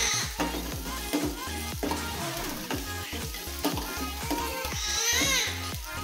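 Onions sauté in a pan with a steady sizzle, and a spoon scrapes and stirs through them in a quick, regular rhythm close by. A voice can be heard faintly in the background.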